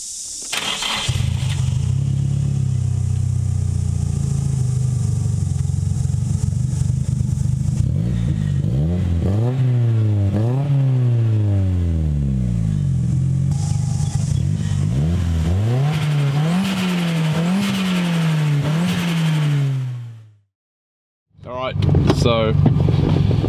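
A 2002 Nissan Silvia 200SX on a stiffly sprung drive along private Mexican roads, its engine loud and close as it climbs and falls through repeated revs and gear changes, then drops out briefly before pulling again.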